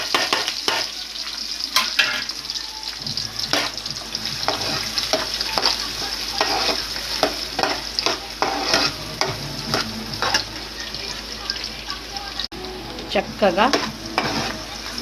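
Sliced onions and green chillies fry in hot oil while being stirred, a constant close sizzle broken by repeated scraping and clinking strokes of a spoon against the pan, with a brief spoken word.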